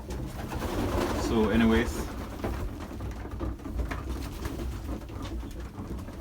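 Young pigeon chicks coo and murmur inside a loft, soft low calls mostly early on, with someone speaking briefly over a background patter like light rain.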